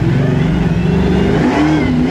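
Bigfoot monster truck with a 9.7-litre engine revving hard under acceleration, a loud, close, continuous deep roar with rising and falling pitch throughout.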